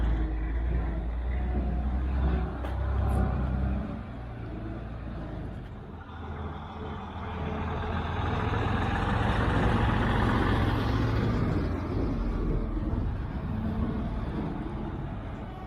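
A double decker bus at a diesel gala pulls away from the end of a road, with its engine rumbling loud and close and then building as it moves off.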